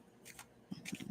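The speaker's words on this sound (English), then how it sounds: "You see me shuffle these cards." Tarot cards being shuffled and cut by hand, quick papery riffles and soft taps in two short bursts, close and quiet with no talking.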